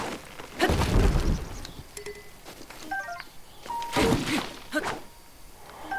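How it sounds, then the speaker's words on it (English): A tree is chopped down in Zelda Breath of the Wild: heavy thunking hits and a crashing fall, interspersed with short chiming game tones, moderately loud. "You can chop down a tree,"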